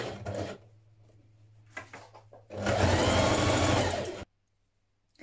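A sewing machine stitches across the top of dress pleats in short bursts, first a brief run and a few stutters, then a sustained loud whirring run of about two seconds before it stops abruptly, close up.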